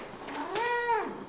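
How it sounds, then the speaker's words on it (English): A pet cat gives a single drawn-out meow, close and clear, rising and then falling in pitch over about half a second with no other sound around it. "that's your nice meow"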